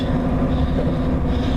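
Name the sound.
train riding on rails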